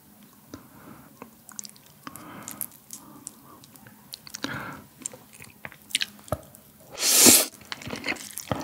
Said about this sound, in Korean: 그래서 고기랑 한번 딱 올려서 먹어보겠습니다